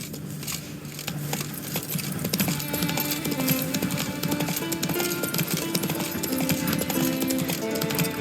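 Horse named Roach galloping in the video game The Witcher 3, with steady rapid hoofbeats clip-clopping throughout over a busy ambient game soundtrack.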